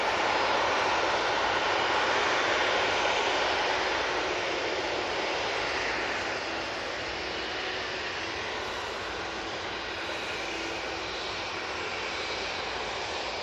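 A plane departs Manchester Airport bound for London, its engine roar a steady, broad rumble that is loudest at first and then eases slightly as it moves away.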